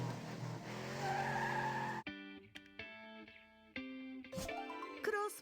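A race car in a children's car-repair video game revs with a tire-squeal effect, followed by bright synthetic musical tones and chimes in short bursts, all in clean electronic game audio.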